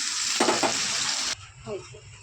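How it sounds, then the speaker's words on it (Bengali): Cooked spice paste hisses loudly in a pan as water goes in, a dense bright sizzle that suddenly drops to a softer, quieter bubbling. "মশলাটা হয়ে গেছে, আমি জল দিয়ে দিলাম।"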